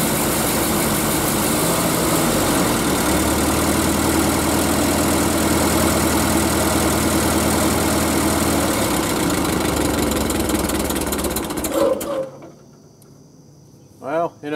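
A Ford 8N tractor engine, restarted after sitting seven years in a field with a rigged-up ignition, runs loud and steady with a rough idle before cutting out abruptly near the end, leaving near-silence and a few faint sounds.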